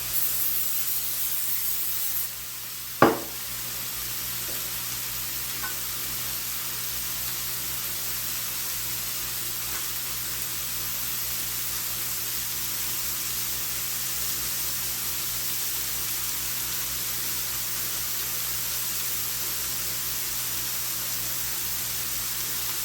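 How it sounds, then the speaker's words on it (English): Oil is sprayed onto a grill while chicken cooks, making a steady, broad hiss that runs unbroken for over twenty seconds after one sharp click near the start. "spray just one more time."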